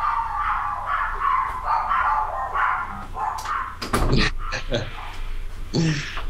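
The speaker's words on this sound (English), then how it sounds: "you can hear the dogs barking there" Dogs bark and yip in a rapid run of sharp calls, mid-distance and moderately loud, overlapping with people talking.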